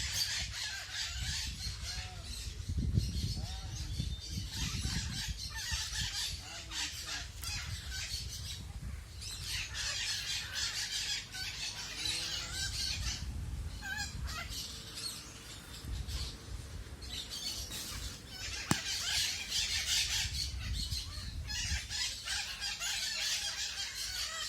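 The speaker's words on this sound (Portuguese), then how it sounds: "Aí a famosa Maracanã e os periquitos." Maracanã macaws and parakeets squawking outdoors at a feeding spot, a steady chorus of shrill calls and chatter over wind and rustling, with a few flaps and thumps now and then, no talk.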